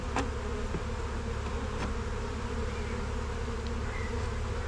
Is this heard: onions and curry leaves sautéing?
no